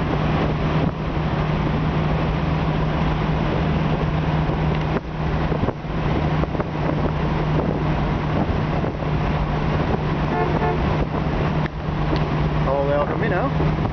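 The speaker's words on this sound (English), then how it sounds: "I'm actually pretty comfortable cruising in the old Mustang" A 1966 Ford Mustang convertible cruises down a road on a mild late-February day in Georgia, its steady low engine drone blended with a constant rush of wind across the open cabin.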